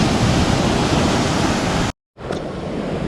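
Sea waves wash over a coastal walking path on the northern Spanish coast between Mutriku and Lekeitio, a loud, close, continuous rushing surf that cuts out briefly and then resumes.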